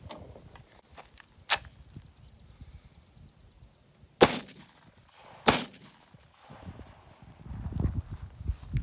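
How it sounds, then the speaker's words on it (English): A Model 81 rifle fires two shots, two sharp, loud cracks just over a second apart, with an earlier, softer snap and faint shuffling and rustling between them. "We'll see just how 2 shots goes."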